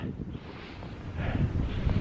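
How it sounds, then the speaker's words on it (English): Steady wind gusting and buffeting close to the microphone, a low rumbling roar that swells slightly toward the end, outdoors in the Boundary Waters at 27 below zero. "it's pretty windy out here."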